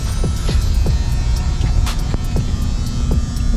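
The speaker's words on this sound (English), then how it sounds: "Finish up some welding on the inside here." Welding on the inside of a Mazda RX-7 FD body, a steady loud electrical hum and throb with repeated short crackling bursts, close up and continuous with no talking.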